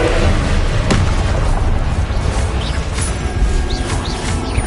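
A Confringo blasting spell erupts in Hogwarts Legacy, a loud, dense rumbling blast that fills the moment with booming, crackling force and scattered bright pops through the noise.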